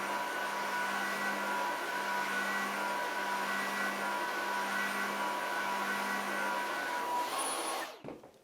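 A Dreame H12 Dual wet-dry vacuum cleaner runs with its brush roller spinning, a steady close whirring drone with a low hum that stays constant before shutting off near the end, no talk.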